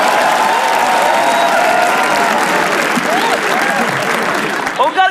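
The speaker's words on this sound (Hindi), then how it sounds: "ओंकार के लिए तालियां प्लीज" An audience at a comedy show claps in sustained, loud applause that fills the room, with a performer's voice speaking over the clapping toward the end.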